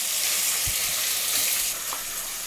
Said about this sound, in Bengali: মিডিয়াম হিটে পেঁয়াজগুলোকে জাস্ট 3-4 মিনিট মতো আমি ভেজে নিলাম।